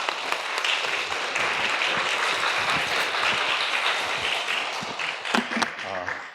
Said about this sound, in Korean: 우리 엄룡희 목사님 나오실 때 우리 큰 박수로 환영해 주시고 축복해 주시면 감사하겠습니다